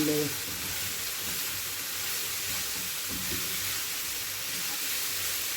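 Minced meat sizzles in a pan, a steady broadband hiss that holds evenly throughout with faint stirring and clinks underneath.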